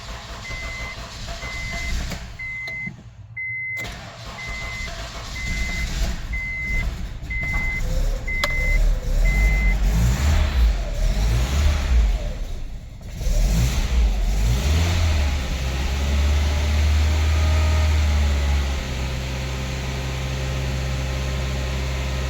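Car engine running after a temperature sensor fix on a Honda, Toyota, Nissan or Subaru with an intermittent crank-no-start fault. It idles steadily and then revs up loudly, with a repeating electronic beep early on.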